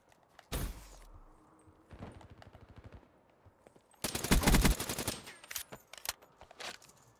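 Black Ops 3 gunfire on the Nuclear map: several loud automatic bursts with short single shots between them and a long rattling exchange near the end, plus faint footsteps between volleys.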